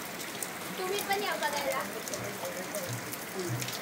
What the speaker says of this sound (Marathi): पाऊस बघा इथे पडतो मित्रांनो. हा पाऊस पूर्ण गलगलाट झालाय